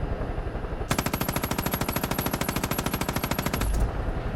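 A long, loud burst of rapid automatic gunfire in Far Cry 5, close and sustained for about three seconds before cutting off sharply.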